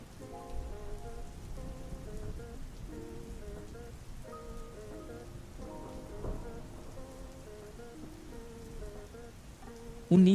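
Steady rain pours on a gloomy day under a soft melodic music track, a constant wash of patter that swells abruptly at the very end.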